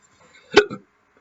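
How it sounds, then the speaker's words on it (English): A single short hiccup lands loud and close in an otherwise quiet moment, a quick gulping catch of breath with a faint trailing voiced tail. "I hate hiccup burps and coughs."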